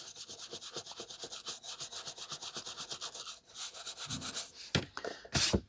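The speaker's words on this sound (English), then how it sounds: "I'm just going to give this one a cursory rub before we give it a proper." A cloth rubs dust off a dirty collectible penguin figure in quick, rhythmic scrubbing strokes, close and soft, with a few sharper scuffs near the end.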